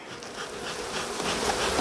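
Africanized honeybees crowding a hive frame, a close, dense buzzing hum that swells slightly louder as it goes on.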